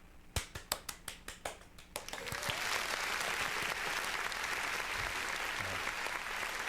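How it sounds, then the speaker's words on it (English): Applause for a special guest on a soulful house music show: a few separate, sharp claps for the first two seconds, then swelling into steady, dense crowd applause that holds to the end. "let's give him a round of applause"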